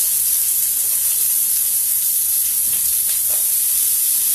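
Onions sizzling in hot olive oil in a pan on a turned-down stove flame, a steady loud hiss that holds evenly throughout with no talking.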